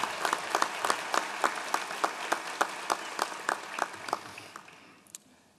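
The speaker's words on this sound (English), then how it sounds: "Everyone, please join me in a round of applause for all of today's graduates." A small group claps for graduates at a university commencement ceremony, the individual claps distinct and fairly rhythmic, tapering off and fading out near the end.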